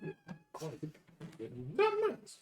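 A voice imitating a cat's meow, a drawn-out rising-and-falling yowl near the end, preceded by scattered speech from people close by.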